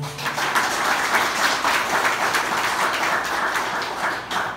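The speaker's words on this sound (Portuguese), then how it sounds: "Vamos dar uma salva de palmas para o Senhor." Congregation applause during a church service, a sustained wash of many hands clapping together, even and fairly loud throughout with slight swells.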